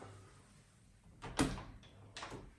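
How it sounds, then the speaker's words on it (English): A door to a storage area under the stairs in a house swings open with a sharp knock and then a softer second bump, heard close in an otherwise quiet room. "Let's check out this door."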